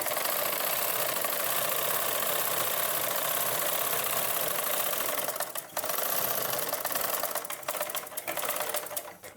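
Sewing machine stitching a straight seam on a blouse, a steady continuous mechanical whir running close and loud with a few brief pauses near the end.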